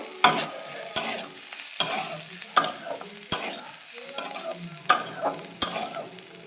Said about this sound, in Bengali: সবার লাস্টে দেবো ধনে পাতা কুচি। দিয়ে এভাবে নেড়ে দেবো।